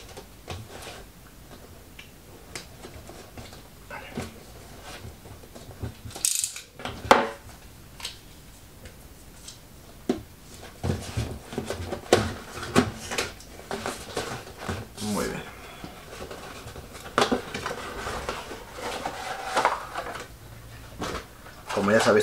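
Plastic blister packaging being cut open and a Marvel Falcon action figure pried out of its press-fit tray: crinkling, ticking snips and sharp plastic clicks and scrapes, irregular and close, with a voice speaking at times.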